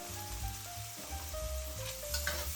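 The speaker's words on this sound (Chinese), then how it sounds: "翻炒几下，让味道融合。" Diced meat and mushrooms stir-fried in a wok, a continuous moderate sizzle with a few stirring sounds, heard without voices.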